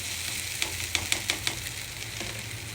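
Puffed rice stirred into tomato puree with ginger-garlic and green chili paste for puffed rice upma, a steady soft sizzle under a handful of light scraping clicks from a spoon against the pan, no talking.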